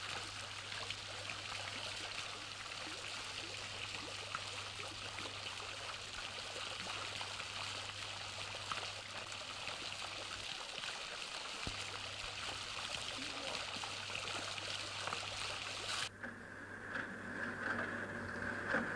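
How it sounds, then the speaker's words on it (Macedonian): Water trickles and splashes steadily from a metal fountain sculpture, with a low hum underneath. Near the end the hum cuts out and the tone of the flow changes. "ја посакуваме водата која тече од металната фонтана"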